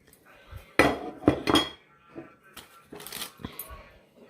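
A spoon scrapes and clinks against a pot while onion sauce is stirred, giving several sharp metallic knocks and scrapes in an irregular rhythm, close and fairly loud.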